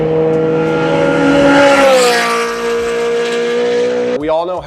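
A BMW E92 M3 with the S65 V8 revving through its exhaust, a loud rising wail that peaks and then settles into a steady high idle before cutting off abruptly.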